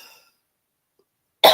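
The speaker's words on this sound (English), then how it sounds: "Excuse me, coughing." A single sharp cough bursts out close and loud after a stretch of near silence, with a faint trailing sound before it.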